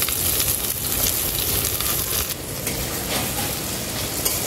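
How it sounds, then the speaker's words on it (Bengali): Carrots, green beans, green chillies and onion sizzle loudly and continuously in a pan over an earthen rooftop stove, a dense frying hiss with occasional stirring. "আমি কিছু সবজি নিয়েছি, সেগুলো ভেজে নেব।"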